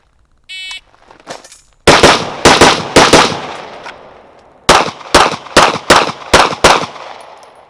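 Rapid rifle and pistol gunfire in an M90 rifle to pistol transition drill: a tone, then sharp close shots in quick bursts, a pause, and a further string of six or seven evenly spaced loud reports.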